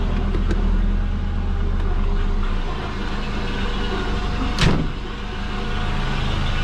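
A Subaru Forester engine idles steadily just after a cold start, a continuous low hum heard close up with no talking and a brief swell partway through.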